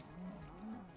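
A Minecraft cow gives two low, drawn-out moos in quick succession, clear and close over a faint background.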